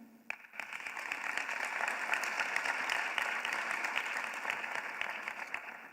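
Audience applause at a policy event on ending violence against women and girls in Africa, steady and dense clapping from a large crowd lasting the whole stretch, fairly even in level with no voices over it.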